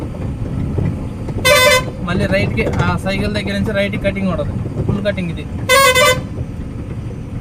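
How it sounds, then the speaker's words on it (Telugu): A vehicle horn sounds two short loud toots on a narrow road, several seconds apart, over steady engine and traffic noise, while someone talks throughout. "హార్న్ కొట్టుకుంటూ వెళ్ళాలి"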